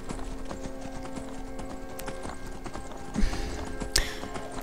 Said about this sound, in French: Donc on remonte sur notre cheval.